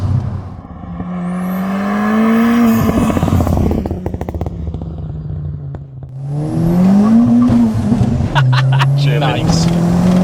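A 370bhp Ford Fiesta ST hot hatch accelerating hard with a wheel spinning up, its engine loud and rising through the gears with close rasping revs, while occupants talk over it inside the cabin.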